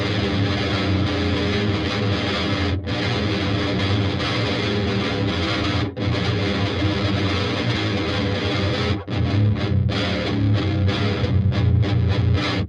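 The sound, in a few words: hydro fuzz guitar effect plugin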